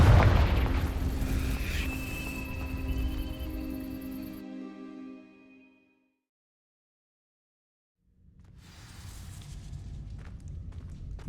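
Confringo fire spell in Hogwarts Legacy setting dry vines alight: a loud burst with a ringing, tonal crackle that fades into silence, then a softer rumbling burn rises again after a pause.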